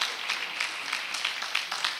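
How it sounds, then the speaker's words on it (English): Audience applause at an impact investing convening, a steady wash of many hands clapping with small swells, moderately distant and fairly quiet, running throughout without talk. "Thank you very much for people that clap."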